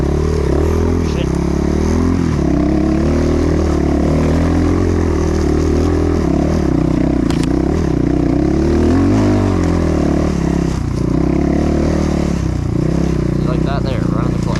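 A Kayo K4 250 dirt bike engine runs loud and close throughout a trail ride, its rough buzzing drone rising and falling with throttle and clutch work, with a rider talking over it.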